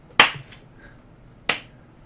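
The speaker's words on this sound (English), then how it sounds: "I think we have enough clap-ins now" Two sharp hand claps about a second apart, used to sync podcast audio, close and distinct in an otherwise quiet room.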